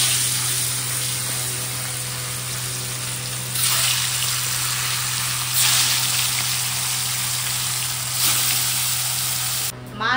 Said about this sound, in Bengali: মাছ ভেজে নিলাম, দেখো সুন্দর করে ভেজে নিয়েছি